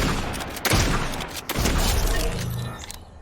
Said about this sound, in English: mythic infiltrator pump, chest shot from 10 meters out